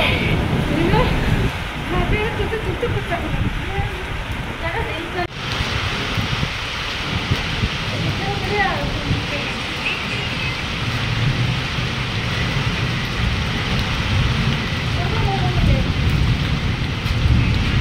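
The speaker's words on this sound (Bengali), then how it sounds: "আর মেঘ ডাকছে রে" Rain falls steadily with low thunder rumbling now and then, a dense close hiss running throughout while voices talk over it.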